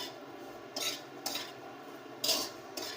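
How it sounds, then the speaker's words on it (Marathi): Grated coconut being stirred and roasted dry in a pan, soft scraping strokes of a spoon recurring every half second or so against a quiet background, no talk. "आता हे थोड्या वेळ असं हलवून घेणार आहे, असं लाल होईपर्यंत थोडंसं, म्हणजे कच्चेपणा निघून जाईल त्या खोबऱ्यामधला"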